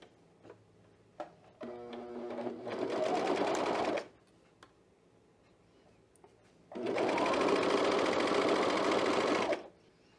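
A sewing machine runs in two loud, steady bursts, sewing clipped fabric pieces for a Cashmerette Brattle Top, with a few ticks and slow stitches before the first run and a quiet pause between.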